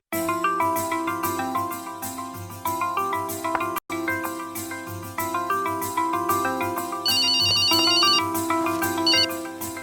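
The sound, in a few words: telephone ringing after a call is placed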